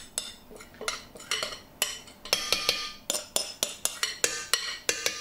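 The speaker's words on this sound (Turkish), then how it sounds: "mikserimin içerisine tüm malzemelerimi boşaltıyorum" Çiğ köfte ingredients emptied into a food processor bowl give a rapid series of sharp clinks and knocks against the container, loud and close, with no talking.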